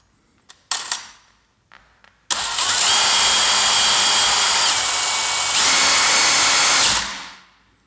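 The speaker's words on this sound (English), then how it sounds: "The drill will do the job." A power drill working on a stuck part of a vintage Universal Geneve Polerouter watch case, a few short clicks and bursts followed by a loud steady high-pitched whir lasting several seconds that shifts pitch once before stopping.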